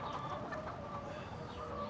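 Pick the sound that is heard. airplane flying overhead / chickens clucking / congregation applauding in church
chickens clucking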